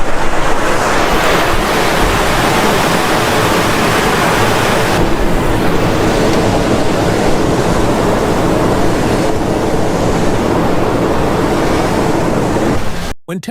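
Chili peppers deep frying in hot oil with ginger slices for a butter hot pot base, a loud steady sizzle and crackle of bubbling oil running throughout, ending abruptly.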